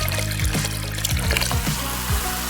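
Water pours steadily over a toy's fizzing powder, a dense continuous trickling and bubbling wash with faint pops running throughout, close and fairly loud.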